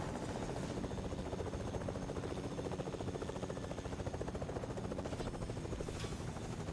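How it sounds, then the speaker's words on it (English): A video game helicopter flies with a slightly jittery motion. Its rotor makes a continuous loud, buzzing drone that stays steady for several seconds, with no voices over it. "Helicopter's a bit jittery."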